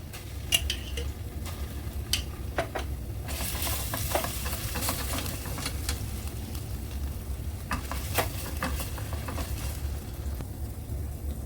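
Garlic fries in oil for a pasta sauce, making a constant crackling sizzle close by, with scattered clicks and taps of utensils against the pan.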